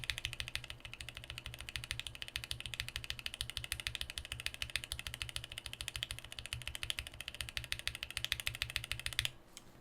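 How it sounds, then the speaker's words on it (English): Steady, rapid clacking of stock, unlubed porcelain blue mechanical keyboard switches, a dense run of crisp key presses that continues for several seconds before stopping abruptly. "let's try a stock porcelain blue, no lube"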